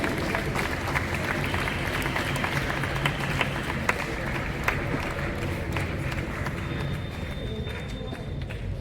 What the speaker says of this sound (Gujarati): તાળીઓના ગણગડાટ ચાલુ રાખો ભાઈ.